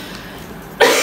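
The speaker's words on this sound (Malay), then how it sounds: "Dia jadi batuk-batuk sesama macam tu." A single sharp cough from a feverish child bursts out near the end after a moment of quiet room tone.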